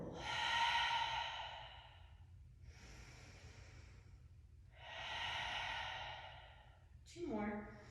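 Long breathy exhales during a Pilates roll-down on a mat, three slow, soft, close breaths with pauses between them. A voice starts speaking at the very end.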